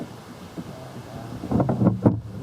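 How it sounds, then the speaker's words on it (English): Gusty wind buffets an outdoor microphone on a gray June day at a house roof inspection, a soft rumble building into several heavy low thumps near the end. "nice gray and windy June day"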